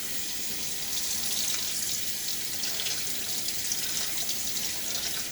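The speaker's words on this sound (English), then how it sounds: "You rinse the tub off." Water runs steadily from a tap while a shaving lather tub is rinsed out, a continuous close splashing hiss with no voices.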